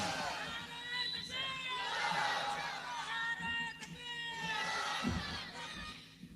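A crowd at a religious sermon gathering in Bangladesh chants the takbir in unison: sustained, echoing massed voices rising and falling in repeated waves, loud and filling the space.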